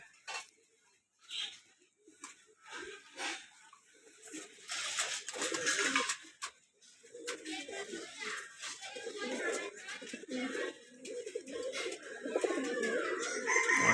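Pigeons coo softly in low, repeated burbling calls while a person talks nearby and children's voices drift in the background.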